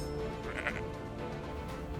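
A lamb bleats softly in a short wavering cry, fairly faint and alone with no talk around it.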